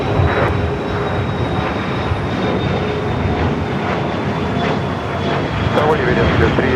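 Airliner rolling for takeoff on runway 25 right at LAX, a steady broad engine roar holding loud throughout, with radio tower chatter running over it.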